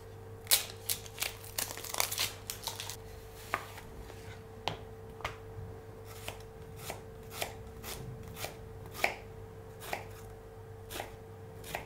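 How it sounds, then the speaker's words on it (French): A knife finely dicing peeled shallot on a board, a steady series of sharp, close chopping taps, quicker and denser at first, then spaced more evenly, with no talking. "on commence par éplucher l'échalote et la ciseler en petits dés."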